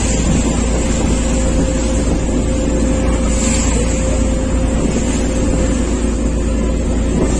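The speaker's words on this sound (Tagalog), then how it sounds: "Laki ng makina pala no." A large boat engine runs steadily near Hap Mun Island off Hong Kong, a loud continuous low drone with a steady hum and broadband wash, alone without talk.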